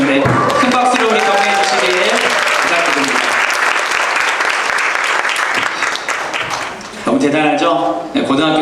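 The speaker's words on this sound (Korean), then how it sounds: "큰 박수로 우리 격려해 주시길 부탁드립니다" An indoor audience at a church gathering claps loudly and steadily to encourage young people, a dense wall of applause under an amplified voice speaking at the start and again near the end.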